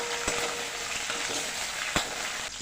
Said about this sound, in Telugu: చిల్లీస్ వేసుకుని ఫ్రై చేయాలండి